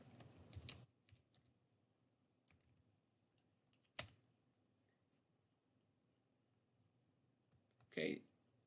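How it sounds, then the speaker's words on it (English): Quiet computer keyboard typing comes in a few sparse bursts of soft clicks, with one sharper keystroke midway and a short louder flurry near the end, separated by near silence. "I'm just going to type in weather."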